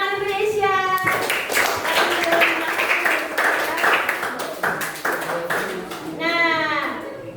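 A classroom of students claps together in a rhythmic patterned group clap amid loud children's voices and chatter, with a sung or chanted tone at the start and end.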